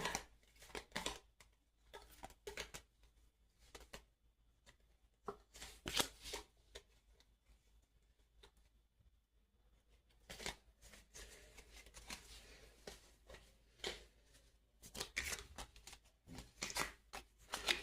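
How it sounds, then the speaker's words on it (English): Deck of playing cards handled while picking out a poker hand, with close crisp flicks, riffles and slides in repeated bursts separated by quiet pauses. "Let me just find the cards for it now."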